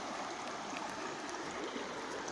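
Steady broadband rush of stream water flowing past stones outdoors, continuous and fairly close with no talk over it.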